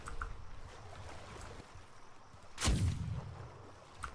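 A grape shot cannon blast in Atlas, a single sharp, booming discharge midway through, standing out against quiet, low ambient background noise before and after.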